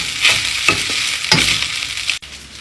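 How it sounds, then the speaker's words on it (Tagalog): Rice being stirred in a hot pan for Filipino garlic fried rice, with a steady sizzle and a few scraping strokes of the spatula and a sharp knock near the end. "Ilagay na natin itong kanin. Halu-haluin."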